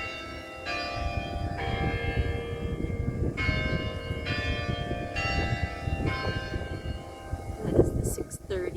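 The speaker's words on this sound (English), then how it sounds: "that is the 6:30 bell" A large bell rings out the 6:30 hour in repeated, sustained tolls with a rich, ringing tone, set against steady outdoor wind noise.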